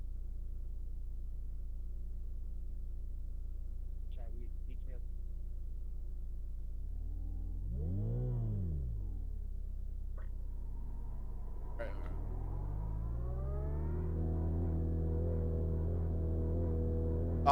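A Porsche race car in iRacing at the Nürburgring holds a low, steady engine drone, then surges through a couple of rising and falling rev sweeps before climbing into a louder, higher pitch toward the end.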